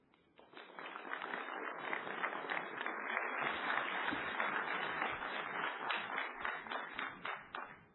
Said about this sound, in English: a very big round of applause for Tony